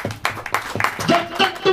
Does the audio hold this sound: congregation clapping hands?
yes